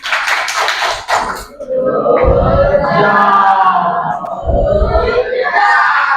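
Classroom students clap together in a quick, dense burst for a little over a second, then the class breaks into loud children's voices chanting and cheering in unison.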